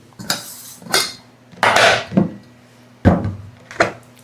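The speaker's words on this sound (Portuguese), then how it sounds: "A gente vai colocar na nossa panela esmaltada." Cubes of honey and cornmeal soap are dropped into an enamel pan, making several separate knocking clunks with short scraping handling sounds between them.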